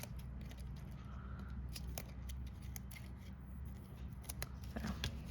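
Scissors snip through card stock at close range for a Christmas lantern card, a steady run of small crisp cuts over a low room hum, with no talking.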